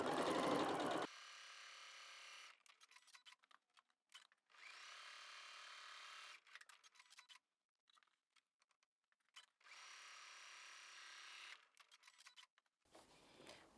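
A sewing machine stitches a quilt-as-you-go patchwork Christmas cushion in bursts of steady, fast whirring, starting and stopping several times with short pauses between runs, close and fairly quiet.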